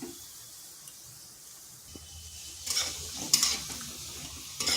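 Ingredients for lau sukto fry in a pan over medium heat, a soft low sizzle with a few brief stirring scrapes and clinks, close and fairly quiet.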